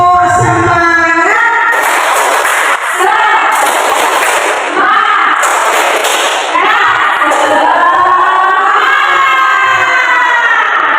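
Teachers and staff at a school training session clap a fast rhythmic spirit chant together, loud bursts of patterned clapping mixed with chanting, shouting voices throughout.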